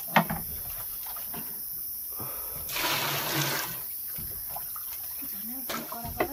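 A short burst of water gushing out, then quieter trickling, with a few clinks and brief sounds around it, as water is drained during home distilling of raksi liquor.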